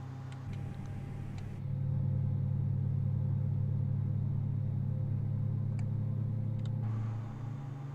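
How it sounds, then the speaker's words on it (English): Airbus A320neo engines running in Microsoft Flight Simulator 2020 during pushback at Delhi, a steady low hum that swells after a couple of seconds and holds, with faint clicks over it. "You can hear the sound of the engines."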